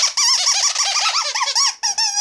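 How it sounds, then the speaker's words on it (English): Squeaky mesh ball dog toy squeaks rapidly and loudly, close up, in a continuous run of high wavering squeals with a short pause near the end. "It's like a squeaky mesh ball thing"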